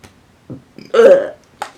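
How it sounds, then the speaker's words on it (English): A single close, throaty burp lasting about a third of a second, with small mouth sounds just before and after. "I just burped."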